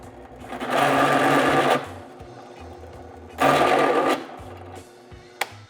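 A drill countersinks a hole in metal for a motorcycle battery box on a hardtail Triumph Bobber, two sustained whirring bursts of a few seconds each separated by a quiet pause.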